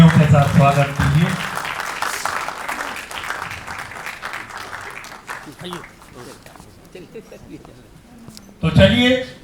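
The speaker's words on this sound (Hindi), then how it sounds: "जोरदार तालियों के साथ स्वागत कीजिए।" Loud applause from a theatre audience welcomes performers before a stage play, swelling at the start and fading under a host's talk, then bursting again briefly near the end.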